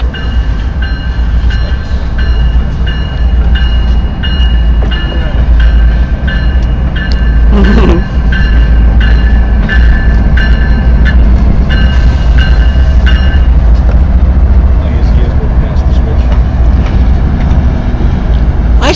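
A freight train rolls on rails in a Belen rail yard, a loud continuous low rumble with steady metallic tonal squeal, holding level for the whole stretch with a brief sharper burst midway.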